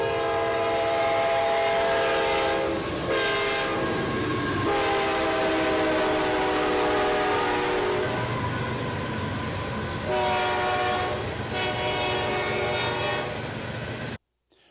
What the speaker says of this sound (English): the pitch of the train horn changed. It was higher as the train approached, and then as the train passed, it got lower